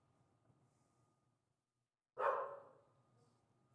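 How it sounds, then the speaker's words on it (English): A single loud bark from a dog rings out in an evening live-streamed gathering, sharp and close after a quiet stretch, trailing off against a faint room hum. "we have a dog here."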